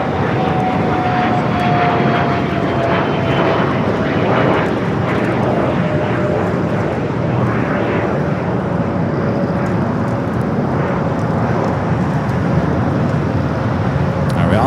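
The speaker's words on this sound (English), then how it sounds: "we also have a Delta 767 also taking off there on the north. I'm sorry, A330 Neo." Delta Airbus A330neo jet taking off at LAX, a steady broadband engine roar that holds loud and even throughout, with a faint whine gliding slowly downward and distant airport noise beneath.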